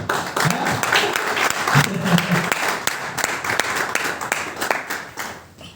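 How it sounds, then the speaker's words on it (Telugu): Applause from an audience at a real-estate training session, a dense burst of many hands clapping together, loud and sustained, gradually thinning toward the end, with no voices standing out. "ఈ చప్పట్లు సరిపోవు"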